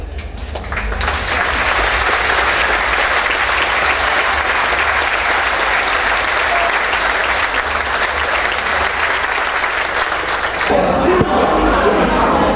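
A large audience at a Dutch harvest festival applauds loudly as the harvest queen is crowned with a small crown beside her two court ladies; dense clapping runs for about ten seconds, then thins out with a brief voice.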